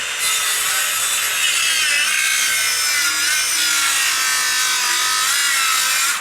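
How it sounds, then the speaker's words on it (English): A brand-new circular saw, set to an 80mm cut, rips through wooden skirting resting on a DeWalt stand, giving a loud, steady, high-pitched cutting whine close up, with no voices. "Right, circular saw."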